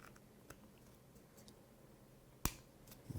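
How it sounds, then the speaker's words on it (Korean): A plastic connector on a small tensegrity structure model snaps into place with one sharp, close click after quiet fumbling, followed by faint handling noise. "딱 소리가 날 때까지 이렇게 끼워주고요"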